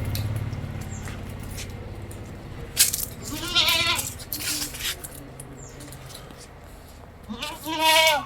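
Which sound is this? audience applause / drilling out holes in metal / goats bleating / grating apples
goats bleating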